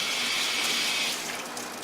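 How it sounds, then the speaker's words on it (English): Hot water runs from a tap into a commercial kitchen pot sink, a steady broadband rushing flow that eases slightly toward the end, with no talk. "fill it up with regular hot water"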